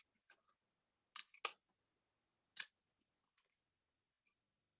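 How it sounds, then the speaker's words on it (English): Scissors cutting paper, a few quiet crisp snips and rustles spaced irregularly, with two clustered cuts early and a single one later, faint small clicks in between. "Cutting, cutting, cutting."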